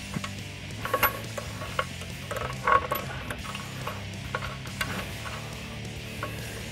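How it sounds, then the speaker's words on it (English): A 21 mm ratcheting wrench snugs a nut on the front suspension control arm of a 2019-2022 RAM 1500 truck, giving bursts of quick metallic clicks over a low background hum, with no speech. "we can tighten that down with a 21 millimeter socket"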